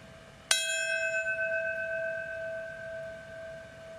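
A single bell strike at a 9/11 memorial in New York, sharp and clear, then a long ringing decay that fades slowly over several seconds against faint background noise.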